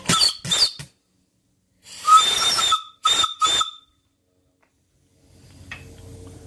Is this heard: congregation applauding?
no